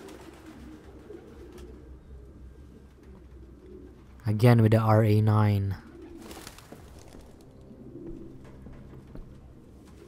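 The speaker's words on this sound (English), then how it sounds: "No human could live with all these fucking pigeons." Pigeons cooing in a room in the video game Detroit: Become Human, a brief loud burst of cooing in the middle over quiet background, with someone speaking briefly.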